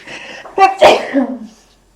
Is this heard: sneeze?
yes